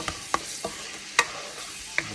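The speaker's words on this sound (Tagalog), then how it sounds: "Kaya gisa na natin yung garlic." Garlic sautés in a pan with faint, sparse sizzling and a few soft clicks and scrapes of stirring, quiet and close with no voices.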